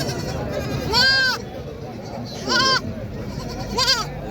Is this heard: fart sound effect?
no